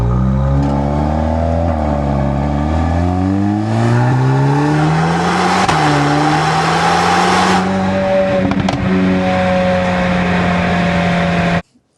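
A 2024 Volkswagen Golf R MK8 revs repeatedly, its engine note rising and falling through several close, loud pulls, ending abruptly.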